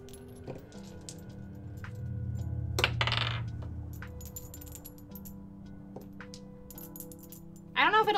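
Metal D&D dice roll and clatter on a surface, a scattered jingling of metallic clinks rising and tapering over several seconds, with a sharper clack near the end and no voice.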